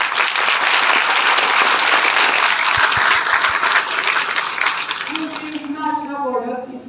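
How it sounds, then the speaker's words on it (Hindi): An audience claps loudly and steadily for Dr. Lim at a DXN business event in Qatar, a dense broadband ovation lasting several seconds before fading as a voice begins speaking near the end. "डॉक्टर लिम के लिए तालियां बजाई जाए।"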